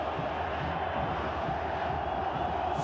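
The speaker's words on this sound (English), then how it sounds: "This crowd explodes." Stadium crowd at a Pumas UNAM versus Deportivo Saprissa football match, a steady dense roar of cheering fans filling the air throughout, loud and continuous with no single voice standing out.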